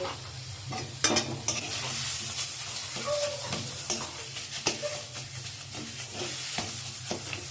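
Mashed green peas fry in a little oil in a kadai, a steady close sizzle and hiss with frequent spatula stirs and clinks against the pan throughout.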